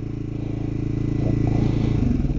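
Motorcycle engine idling steadily in cold weather after the choke is switched off, a close, even low rumble with slight rise in intensity toward the end and no talking.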